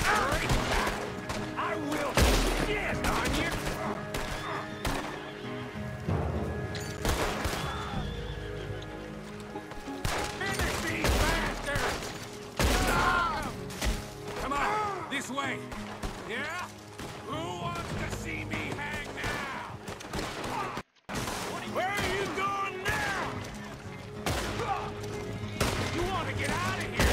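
Gunfight in Red Dead Redemption 2, with repeated gunshots and volleys of fire mixed with horse whinnies and hoofbeats, a dense, loud battle din that runs throughout while voices speak over it.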